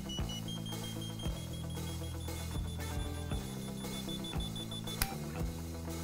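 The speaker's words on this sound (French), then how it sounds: "Les indications de distance et de direction sont accompagnées d'un guidage sonore." Ortovox Zoom+ avalanche transceiver giving audible search guidance, a steady run of sharp electronic beeps repeating in a regular rhythm, close and clear with no voices.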